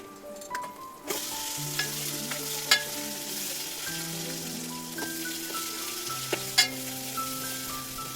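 A vegetable mixture is stir-fried in a pan, a steady close sizzle with scraping and clinking strokes of a utensil at irregular intervals, a couple of sharper knocks standing out, with soft music underneath and no talking.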